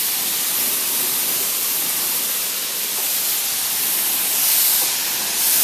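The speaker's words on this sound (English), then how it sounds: "And then you can just finish by spraying the wheels down" A hose sprays water over a car engine and wheels during a DIY engine clean, a loud, steady broadband hiss that runs unbroken and close, with slight swells, no talking.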